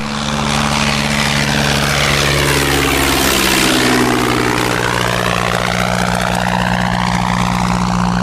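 Early propeller-driven aircraft, like the Wright brothers' first powered flight: a loud, close, continuous engine drone with a steady propeller hum, swelling and shifting in pitch as it passes.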